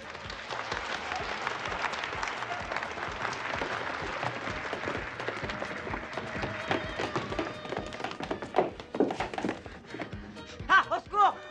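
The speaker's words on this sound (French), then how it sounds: "On l'applaudit." A theatre audience applauds a fakir's disappearing act, steady clapping filling the clip and breaking into a few louder, scattered claps near the end.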